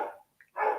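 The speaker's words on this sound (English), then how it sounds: "some dogs barking in the background" Dogs bark somewhere in the background, two short, muffled barks separated by a brief gap, faint and distant-sounding.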